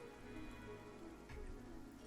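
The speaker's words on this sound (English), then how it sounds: "7 hours of toxic rain happening." Toxic rain falling in the video game Surviving Mars, a quiet steady hiss of rainfall with a low constant hum beneath and a slight swell partway through.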